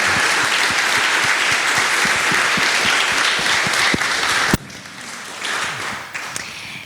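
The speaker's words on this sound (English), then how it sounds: "Can you join me in giving them one more round of applause?" A panel-discussion audience gives a loud, dense round of applause that sustains evenly, then stops abruptly, leaving a quieter room with faint murmuring and stray sounds.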